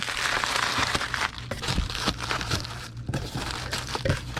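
A sheet of packing paper is folded and rolled around an item, giving continuous loud crinkling and crumpling with sharper crackles throughout and no talking.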